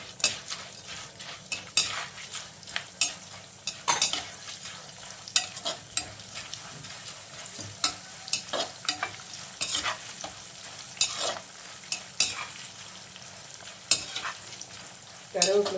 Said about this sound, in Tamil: கருவேப்பிலை பொரிஞ்சு நல்லா வாசனை வருது